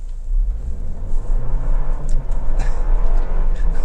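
A 2024 Toyota Land Cruiser First Edition rolls along a dirt road in four-wheel-drive low range, a loud, close cabin rumble of engine and tires with gravel crackle, steady throughout and without talk.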